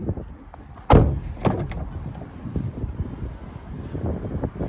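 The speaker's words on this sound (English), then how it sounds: "Got power sliding doors" The power sliding door of a 2017 Chrysler Pacifica shuts with one sharp, solid thud early on, followed by softer knocks and rattles over breezy outdoor background noise.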